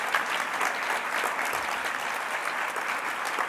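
Dense, sustained applause from a conference audience at an ISS research and development gathering as an award winner is announced, a continuous wash of many hands clapping with no breaks.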